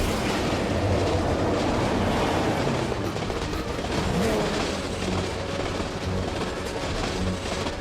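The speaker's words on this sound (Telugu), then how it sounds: "ఈ ట్రైన్ మనల్ని ఎక్కడికి తీసుకువెళ్తుందో అర్థం కావడం లేదే" A train rumbles along steadily with a continuous heavy mechanical roar and faint rattling throughout.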